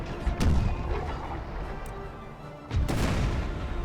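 Cannon artillery fires in the video game Imperial Splendour: two heavy booms, one early and one later, each with a rumbling tail over a low battlefield background.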